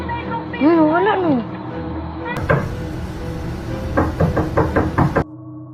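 Late-night knocking on a door, heard as a quick series of about six sharp, close raps in a burst near the end, following a stretch of talk and other noise.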